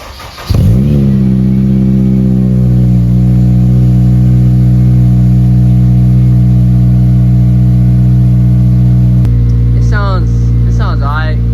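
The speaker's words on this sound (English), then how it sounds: "I'll give y'all a little sound test" An Acura RSX fitted with an Invidia N1 exhaust and DTR header starts with a quick rev, then holds a loud steady idle with a deep rumbling drone, followed near the end by a couple of sharp revs that rise and fall.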